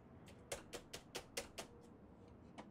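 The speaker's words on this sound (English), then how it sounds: "Hear the typing on the keyboard?" Keyboard typing in the video game Tell Me Why: about eight faint, evenly spaced key clicks in a quick run, then one last stray click.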